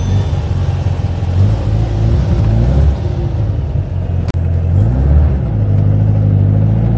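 A modified classic Volkswagen Beetle's engine runs loud and close as the car drives, a rumbling low drone that rises and falls with throttle changes, with a sharp click partway through.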